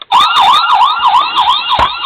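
Toy siren from a diecast Dodge Charger sheriff police model, a loud, continuous electronic wail warbling steadily for about two seconds, close and alone.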